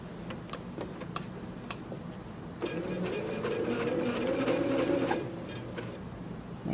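A sewing machine stitches thin fabric right beside a seam, running in a steady whirring burst for a few seconds between scattered clicks and ticks of the mechanism, close by, with no talking.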